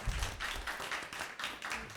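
A small group claps at a council meeting, a soft, somewhat distant patter of hands in a few uneven bursts, quiet and brief with no voices over it.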